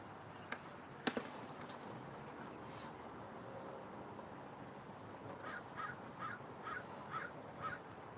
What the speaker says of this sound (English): Seagulls keep coming and try to steal my friggin' bread.